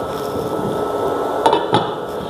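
A lid set onto a cooking pot of caldo verde, two quick metallic clinks near the end over a steady background hiss of simmering.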